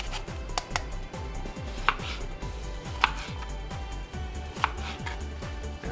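Citrus fruit is zested with quick, rhythmic scraping strokes, several per second, close and steady, with a few sharper clicks mixed in.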